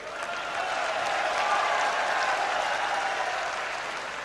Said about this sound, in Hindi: आप ताली बजा रहे हो, मीडिया नहीं दिखाएगी।